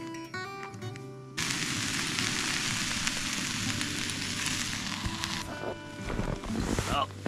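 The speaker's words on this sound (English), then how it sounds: "It's sizzling away." Food sizzling and crackling steadily in a pan on a camp stove, outdoors on a snowy mountainside in winter, close by, a loud hissing fry that continues throughout.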